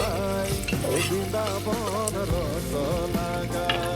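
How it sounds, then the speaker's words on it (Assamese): Ginger, garlic and chilli paste fries and is stirred in a pan for evening snacks, a steady sizzle heard under prominent background music with melodic tones. "এইখিনি ভালকৈ ভাজিব"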